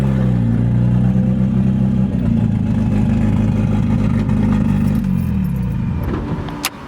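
A Porsche 911 Turbo idles and rolls out of a street, its low engine rumble loud and close, gently changing pitch as it pulls away, with a light jingle near the end.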